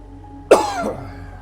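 A single sharp cough bursts out close to the mic, followed by a short rough tail, with quiet room noise before and after.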